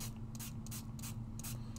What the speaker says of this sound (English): We're just going to kind of generously spray that all over.